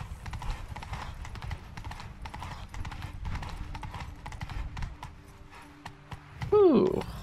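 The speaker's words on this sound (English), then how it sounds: "Ooh, horse is tiring." A horse's hooves clip-clop at a steady trotting rhythm across ground in The Witcher 3, close and clear. A short voiced sound breaks in near the end.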